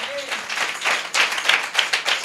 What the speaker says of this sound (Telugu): Just give claps to the lord Jesus.